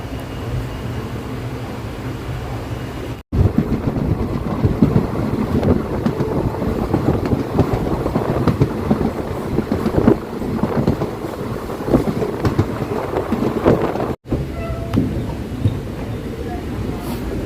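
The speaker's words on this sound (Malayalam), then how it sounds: "നാഗപട്ടണം റെയിൽവേ സ്റ്റേഷനിലേക്ക് ട്രെയിൻ എത്തിക്കൊണ്ടിരിക്കുകയാണ്" An ALCO diesel-hauled passenger train nearing Nagapattinam railway station, heard from on board as a steady rumbling roar with wind buffeting the microphone, broken by two abrupt brief cutouts.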